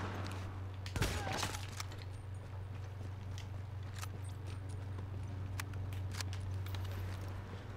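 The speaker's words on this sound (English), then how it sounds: "I'm getting a little better at the shooting" Gunfire in The Division video game: a loud burst of shots near the start, then scattered sharp reports and clicks over a steady low hum, with faint talk underneath.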